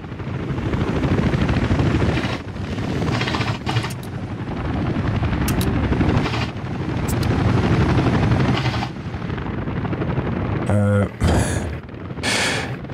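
Helicopters in the Soviet city-building game Workers & Resources: Soviet Republic give a loud, steady rotor drone with mechanical clatter and a few abrupt interface clicks, and a voice speaks over parts of it.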